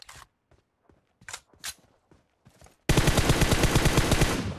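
Gunfire in the video game PUBG Mobile: a few scattered faint shots and clicks, then a sudden loud, sustained automatic burst of rapid rhythmic rounds close by.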